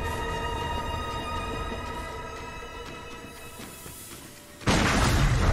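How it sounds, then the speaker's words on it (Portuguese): A gunshot in a video game lands as a single loud, sudden boom near the end, cutting through a held synth-like drone; no talking. "Você viu que ele deu um tiro igualzinho o Bloodborne, velho?"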